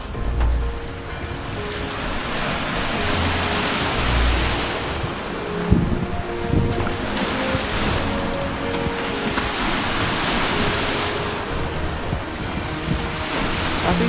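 Large waves surge and crash around a boat on Lake Balaton, a steady roar of surf with gusting wind buffeting the microphone and a brief thud near the middle.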